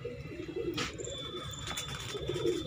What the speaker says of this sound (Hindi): माशाल्लाह बहुत कबूतर आए हुए जी, एक से बढ़कर एक है जी